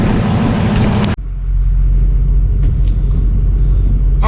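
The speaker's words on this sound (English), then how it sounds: "I'm going to let that truck warm up a little bit," A 6.0 Powerstroke diesel truck engine with a blue spring mod runs steadily, a continuous low rumble close by after a brief cut near the start, with no talking.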